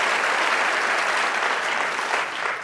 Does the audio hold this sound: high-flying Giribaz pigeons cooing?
no